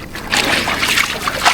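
Fast-flowing water rushing over a rocky riverbed, a steady broadband wash with splashy surges, continuous and fairly close throughout.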